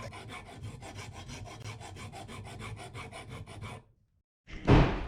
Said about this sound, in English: So I'm just going to go ahead and file that down by 1/2 centimeter.